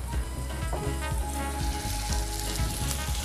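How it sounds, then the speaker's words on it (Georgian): Meatballs frying in hot oil in a pan for spaghetti, a dense, continuous close sizzle and crackle with a few soft knocks, no talking. "ტაფა უკვე ცხელია, შემიძლია დავიწყო ბურთულების შეწვა"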